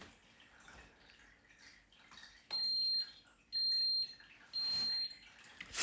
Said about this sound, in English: Three beeps to tell you it's finished.